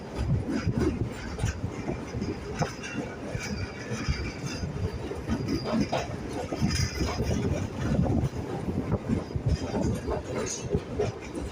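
A Kolkata local train between Majerhat and BBD Bag rumbling along the tracks nearby, with rhythmic clatter and wind buffeting the microphone.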